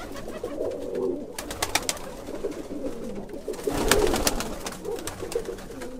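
Pigeons, including odd-colored tipplers, coo continuously inside a New Jersey pigeon loft, a steady low murmur of overlapping calls with sharper fluttery bursts, close and moderately loud with no talking.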